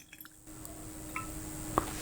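Water is poured into a glass laboratory beaker while preparing a copper sulfate crystallization experiment. A soft, low liquid wash runs after a quiet start, with a couple of small drips and one brief splash near the end.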